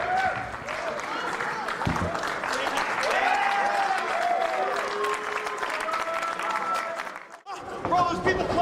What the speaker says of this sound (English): there's people clapping for you